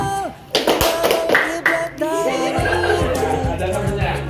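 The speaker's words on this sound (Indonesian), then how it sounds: "Kita kasih tepuk tangan bagi orang ini" A classroom of students claps together in a burst of hand clapping mixed with chatter and light laughter, while voices talk over it throughout.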